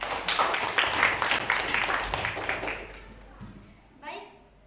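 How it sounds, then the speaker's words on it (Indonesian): Classroom applause from students after a group presentation, a dense patter of many hands clapping for about three seconds before fading, with a brief voice near the end. "tepuk tangan."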